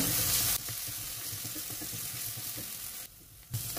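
Chopped onions with green chilli powder and a pinch of salt frying in a pan for a prawn samosa filling. A steady close sizzle runs under scraping stirs, with a brief quieter dip near the end and no talking.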